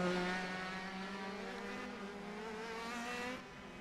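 A race car engine in the iRacing sim racing game holds a loud, sustained high-revving tone, shifting slightly in pitch as it runs on.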